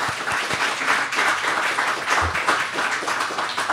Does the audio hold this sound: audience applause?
yes